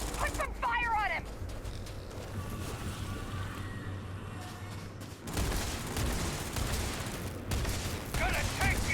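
Rapid gunfire crackles through a firefight in the video game Starfield, as dense bursts of shots under a continuous roar with voices calling out over the fighting.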